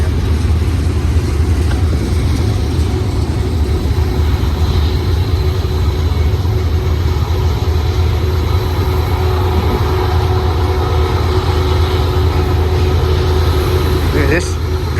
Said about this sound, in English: Awesome train.